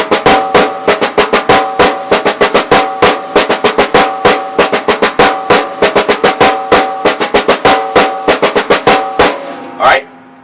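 A drummer plays a six-stroke roll variation, doubles first and then two single strokes, repeating in a steady rhythm of crisp, close, loud hits that stop with one final accent.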